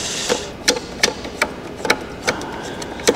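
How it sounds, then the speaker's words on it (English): Double edge cutter tool being unscrewed from a vinyl cutter, a series of small sharp clicks and ticks spaced irregularly, close and fairly loud, with no voice. "You just push in the button on the front here with my thumb, and then you're able to unscrew this tool."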